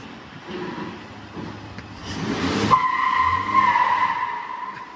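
An off-road vehicle accelerates up a 20% concrete grade fitted with steel rollers, its engine rising into a loud, sustained roar with a broad rush of tire noise midway, then holding a steady whine to the end.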